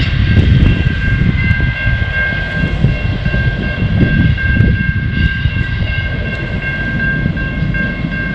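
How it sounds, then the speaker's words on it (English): A long freight train hauling containers of sodium cyanide rumbles past near Broken Hill, with a loud, continuous roar of wagons and clattering wheels plus a sustained tonal whine and squeal over the whole stretch. "So before I was interrupted by that train"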